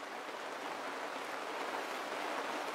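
Continuous rain pouring onto a sailboat in stormy, windless weather off Panama, a dense, even hiss that stays at a constant moderate level throughout with no voices.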